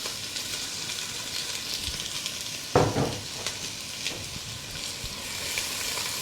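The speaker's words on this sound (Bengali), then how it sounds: "এই পেঁয়াজগুলোকে আমি খুব সুন্দর করে ভেজে নেব।" Chopped onions, about a cup, sizzle steadily in roughly 30 ml of oil in a pan over medium heat while beef kala bhuna is being prepared. The frying hiss holds constant, with a brief louder stir-clatter in the middle.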